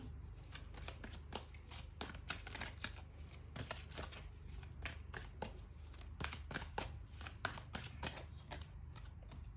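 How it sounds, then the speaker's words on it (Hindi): Tarot cards are shuffled and drawn at close range in a rapid, continuous run of crisp flicks and soft slaps. No one speaks. "तो सबसे पहले हम निकालते हैं आपके लिए कुछ टैरो कार्ड्स"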